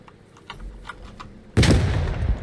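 Gunfire in the World War II shooter Post Scriptum: faint scattered activity, then a loud close burst of automatic fire at the end that keeps going.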